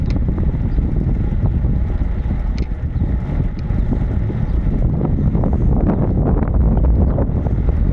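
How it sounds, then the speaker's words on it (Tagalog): A steady, heavy roar of headwind buffets the microphone while cycling on a road toward Lake Bracciano, continuous and loud with no talk. "mahangin, salubong ang hangin kaya medyo mabigat"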